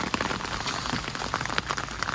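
Rain falls outside a house under renovation, a dense, steady patter of drops hitting surfaces with no break, close and fairly loud, with no voices.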